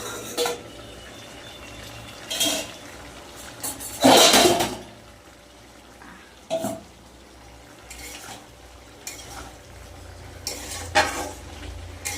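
Clattering lid of a curry pot holding a potato, pointed gourd and cauliflower curry, lifted off with a few sharp metallic clanks and scrapes over a low simmering background.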